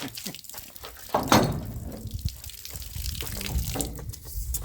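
Water spraying from a loosened plastic tap fitting during plumbing repairs, a hissing, splashing burst that surges loudly near the start and then continues as a steady, close spray.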